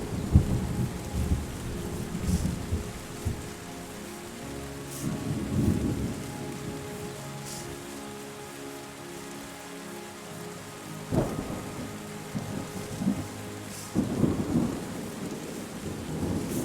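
Steady rain pours throughout in the video game Terra Nil, with several deep rolling thunder rumbles swelling and fading, one sharper crack midway, no voices.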